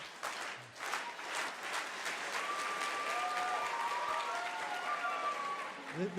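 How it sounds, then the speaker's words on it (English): A conference audience claps in a quiet, uneven slow clap, hands patting at a steady pace under soft voices in the room. "It was a slow clap."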